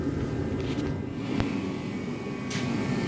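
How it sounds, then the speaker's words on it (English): Radiator cooling fan running steadily in a 1981 El Camino under LT1 swap work, a loud continuous broadband whoosh filling the space with a brief sharp click partway through. "Got the radiator running."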